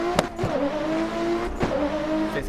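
A Toyota A90 Supra drifting in Assetto Corsa gives a boosted engine note that rises and falls through quick shifts, with brief sharp bursts and faint tire noise, close and loud with no voices.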